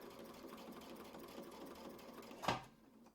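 A sewing machine runs steadily while travel stitching a quilt block, a quiet continuous mechanical hum ending in a short louder clatter as it stops.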